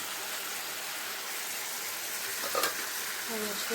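A paneer gravy mixture is stirred in a pan, producing a steady low sizzle with scraping spoon strokes and a brief clatter partway through.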